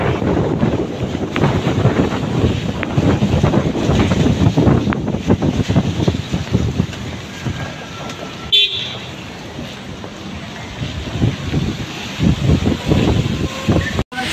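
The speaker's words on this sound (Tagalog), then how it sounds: "Sa lakas ng hangin." Strong typhoon winds from Typhoon Carina roar steadily across Intramuros, a dense, continuous rush with rougher gusts, loud and close to the microphone, easing slightly after a brief dropout midway.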